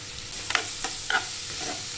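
Sliced onion frying with chili powder, coriander and salt, stirred briskly in a pan, producing a close steady sizzle with a few quick scraping strokes, no speech.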